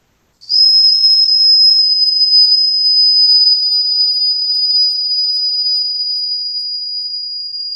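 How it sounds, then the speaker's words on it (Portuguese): A model steam engine of the early Industrial Revolution type sounds a steady, loud high-pitched whistle that starts abruptly and holds for several seconds with a constant pitch, fading only slightly toward the end. "Este modelo de máquina a vapor é o que mais se assemelha com os utilizados no início da Revolução Industrial"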